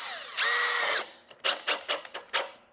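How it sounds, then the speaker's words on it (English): Screw gun driving screws into classic rib metal roofing on a shed: one sustained whine lasting about half a second, then a quick run of short, sharp buzzing bursts, close and clear. "If you take your screw gun and you turn your fitting down"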